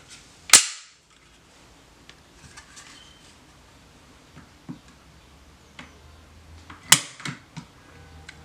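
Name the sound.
trigger pull on Smith & Wesson SD40VE pistol, factory trigger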